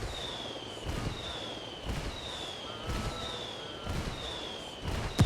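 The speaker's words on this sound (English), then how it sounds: "I'm calling for indirect fire." Artillery strike explosions in the Ghost Recon Wildlands video game, several booming blasts spaced about a second apart with sharp cracks and ringing tones over a steady noisy background.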